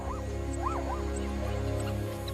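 African wild dog (lycaon) pups call while playing at hunting, giving several rising and falling whimpering yips over a steady background hum, fairly close.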